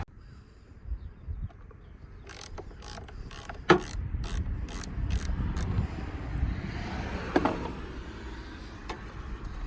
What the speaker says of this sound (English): disconnect the negative battery terminal. I believe it's a 10 mil bolt. Undo it